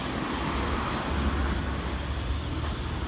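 A K set passenger train passing Burwood Bridge: a loud, steady rumbling roar of wheels and carriages close by, continuous throughout.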